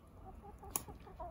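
Backyard hens make soft, scattered clucks at low volume, with one brief sharp click partway through.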